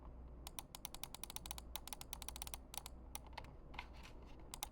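Buttons on a modified Microsoft Wheel Mouse Optical click quickly and repeatedly up close, a crisp run of small taps in bursts against a quiet background hum.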